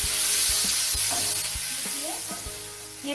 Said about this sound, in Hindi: प्याज डालने के बाद इसे अच्छे से सोते कर लेंगे।